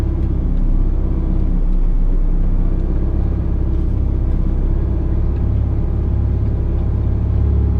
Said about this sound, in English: apparently driving a truck over a school field.